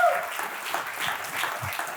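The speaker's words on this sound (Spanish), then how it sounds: "Dele un aplauso a Él." A church congregation applauds in a steady wash of clapping, moderately loud and continuous for a couple of seconds.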